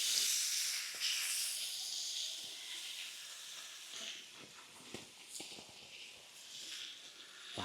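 Masala-coated chicken pieces frying in hot oil over a flame, a steady bright sizzle and hiss with occasional pops and clatter, close and fairly loud.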